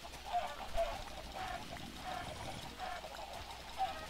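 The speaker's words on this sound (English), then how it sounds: "I see a lot of chickens outside this place" Chickens clucking in the Minecraft video game, a few short, soft clucks repeating over a faint background hum.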